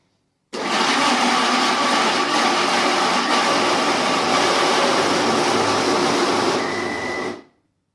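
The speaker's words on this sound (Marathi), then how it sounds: "आता बटाटा घातल्यानंतर मात्र मी हा मिक्सर आपल्या रेग्युलर मोडला वापरणार आहे" A mixer grinder runs steadily on its regular speed setting while mashing potato for sabudana papad, a loud continuous whirring roar that starts abruptly, holds for about seven seconds and then cuts off.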